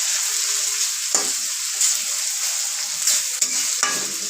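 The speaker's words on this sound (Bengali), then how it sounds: "চিকেনটা আমি সুন্দর করে ভেজে নেব," Chicken breast pieces fry in a hot pan with a steady sizzle, broken by several scraping stirs of a spatula, close and fairly loud, with no talking.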